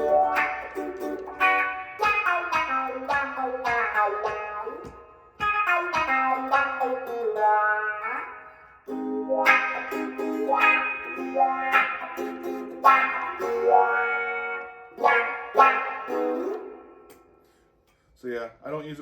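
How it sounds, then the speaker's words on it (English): An electric guitar, a D'Angelico Premiere SS, is played through a wah pedal with distortion nearby, giving phrases of sustained, sweeping notes and chords with short pauses, loud and close with no talking. "So here's a wah pedal with it."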